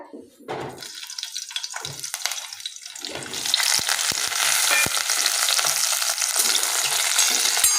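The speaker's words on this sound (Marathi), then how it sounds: "आता आपण एक कढईमध्ये एक पै तेल टाकूया आणि जे वांग्यांना मीठ लावून घेतलेले आहेत ते वांगे यामध्ये टाकूया" Salt-rubbed brinjals dropped into hot oil in a kadhai, a few clunks and scrapes first, then a loud, dense sizzle that swells and stays steady and close.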